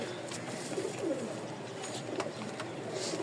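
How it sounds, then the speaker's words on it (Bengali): Pigeons coo softly and repeatedly at close range among pairs of healthy male and female birds kept for sale in Mirpur, Dhaka, with a steady low background hum. "এটা হচ্ছে ফিমেল আর এটা হচ্ছে মেল কবুতর দেখলেই বোঝা যায় সুস্থ সবল কবুতর সব"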